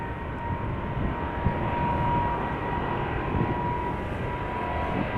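KLM Boeing 777-200 at Amsterdam Schiphol Airport, a steady, moderate jet engine drone with a faint whine, continuous and somewhat distant.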